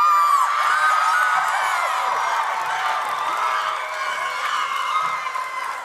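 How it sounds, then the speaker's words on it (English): High school graduation crowd cheering and whooping loudly for a graduate's name, a dense wash of shouts and applause that fades slightly toward the end. "Hold your applause"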